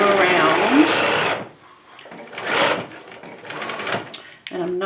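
Sewing machine stitching a bag at the default 2.5 stitch length, running steadily in a loud burst, then pausing and starting again in shorter runs with quieter gaps between.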